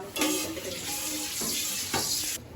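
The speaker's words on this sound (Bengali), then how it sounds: "এই জলটা এখন আমি একটু ঝরা দিব এইভাবে জলটা ঝরে দিব" Water pours off a cooking pot, a steady splashing stream running for about two seconds before it cuts off near the end, close and moderately loud, with no talk.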